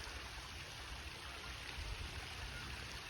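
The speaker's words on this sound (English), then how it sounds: "And there's the water running down." Water running down from a dam in a park, a steady broadband rush that stays close and even throughout, with no voices over it.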